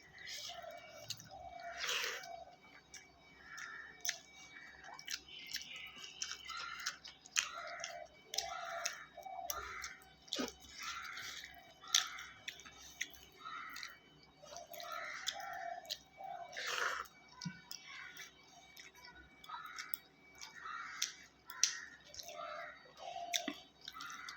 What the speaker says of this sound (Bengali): ডাল দিয়ে ভাত খাচ্ছি তো